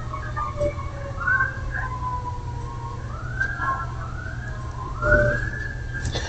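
An emergency vehicle siren wails outside, rising and falling in smooth sweeping tones, fairly distant over a low steady hum.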